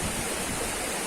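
Fast-flowing canal water rushing past at Baqar Mori in Shahdadpur, a steady, loud, dense roar of churning water with no pauses, close by and heard alone.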